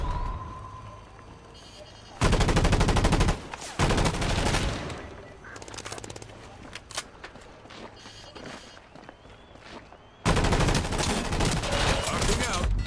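Gunfire from the video game Combat Champions: loud sustained bursts of automatic fire start and stop abruptly, with scattered single shots and quieter game sounds in the gaps.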